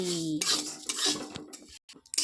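Metal utensils scrape and clink against a wok in quick, uneven strokes, close by, with a soft sizzle of lentils frying underneath.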